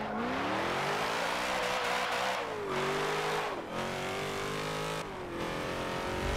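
A car drifts sideways in Forza Motorsport 7, its engine holding a steady high drone that rises and dips with throttle lifts, with faint tire hiss underneath, loud and continuous with no talk.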